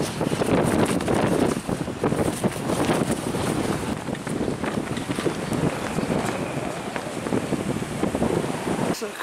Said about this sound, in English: on a gusty day.